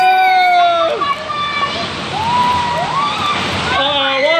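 Water rushes and splashes from a waterfall on a Walt Disney World water ride, a steady broadband wash heard close by while riders talk and exclaim over it throughout.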